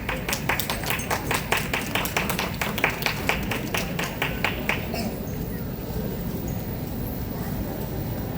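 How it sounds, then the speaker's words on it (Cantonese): A small audience gives a performer a round of applause, clapping in a steady, even rhythm for about five seconds before it stops, with faint voices in the background. "我哋俾一次掌聲佢"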